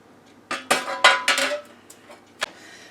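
Sloppy joe pinwheels made from crescent rolls are set down on a metal pan in a short series of clattering knocks and clinks, close and fairly loud, followed by a faint later tap.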